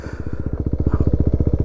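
An ItalJet Dragster 200 scooter engine idles steadily up close after warming up, a rapid even low putter of firing pulses running alone throughout.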